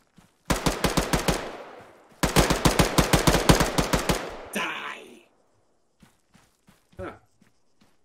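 Rifle fire at an enemy in Arma 3, two loud close bursts of rapid automatic shots, each about two seconds, then a few scattered faint thuds and footsteps.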